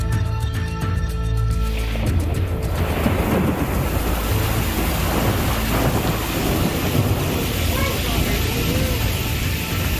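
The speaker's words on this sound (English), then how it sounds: "And listen to that rain, too, how hard that rain is falling." Heavy rain pours during a November thunderstorm amid a tornado outbreak across the southern United States, a dense, steady roar that follows a few fading tones at the start.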